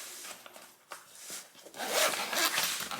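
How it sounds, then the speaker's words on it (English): A zipper running around a lunch bag is pulled open in a few uneven strokes, close by, the rasping growing louder and steadier toward the end. "It has a zipper that goes pretty much all the way around."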